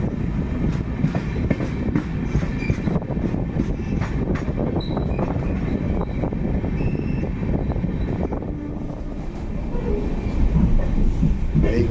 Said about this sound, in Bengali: অবশেষে 4 ঘন্টা 20 মিনিট অপেক্ষা করার পর ট্রেনে এসে পৌঁছালো ডানকুনি স্টেশনে। এরপর আমরা রওনা দিলাম উত্তরবঙ্গের দিকে।